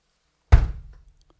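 A single kick drum pedal stroke lands as one deep, heavy thump, close and alone after silence, with a short decaying boom.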